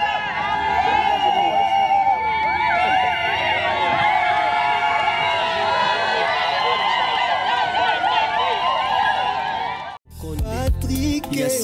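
A large crowd at a wedding celebration cheering and shouting loudly, with whistles and voices overlapping continuously, ending abruptly with a brief cut to other noise.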